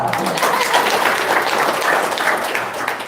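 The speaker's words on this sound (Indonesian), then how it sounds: "Tepuk tangan dulu dong" Audience applause fills all three seconds, a steady, dense wash of clapping at even loudness with some voices mixed in.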